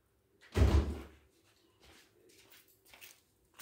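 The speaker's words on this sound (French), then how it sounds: "je vais lui ouvrir la porte" An indoor door is opened to let a cat out, a single loud thump near the start followed by faint shuffling and quiet room sound.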